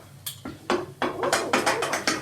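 A metal frying pan is set out and handled in a home kitchen while making paneer curry, giving a series of sharp clanks and knocks, about eight close hits in quick succession.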